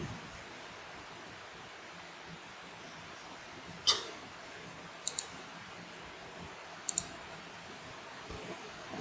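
A computer mouse clicks a few times on a university registration website, sharp isolated clicks spaced seconds apart over steady background hiss, with no talking.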